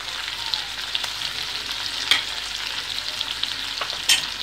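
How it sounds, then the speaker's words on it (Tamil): Onions sauté in a pan with a steady, close sizzle and frying hiss. A few brief sharper scrapes or pops come through, and no one speaks. "1 நிமிஷம் நல்லா வெங்காயம் வதங்கிருச்சுங்க"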